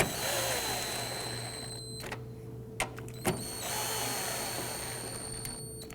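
A fastener being snugged down on a 2008-2011 Ford Focus coolant reservoir with a power tool, steady whirring broken by a pause and a couple of sharp clicks mid-way before the tool resumes.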